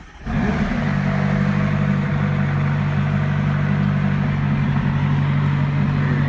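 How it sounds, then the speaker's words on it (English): A McLaren 570S engine cranks and catches, then settles into a steady, loud, rumbling idle that holds for several seconds, close by. "So you just put your foot on the brake"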